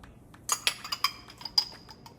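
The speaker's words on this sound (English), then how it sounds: "I'm gonna toss this all together and get it in my pan" Light clinks and taps as chopped vegetables and potatoes are tossed together in a pan, a series of short, close metallic and glassy knocks with no talking.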